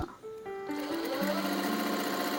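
Sewing machine stitching blouse cloth runs steadily and loudly, a close continuous mechanical whir with rising motor pitch, no voices.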